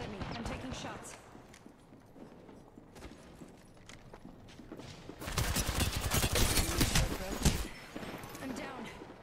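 Bursts of gunfire in an Apex Legends match crackle under a player's voice, quieter shots at first, then a dense, loud stretch of rapid shooting in the second half.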